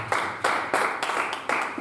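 A few scattered, sharp hand claps ring out in a church gathering, sparse and irregular rather than full applause, heard close with nothing else around them.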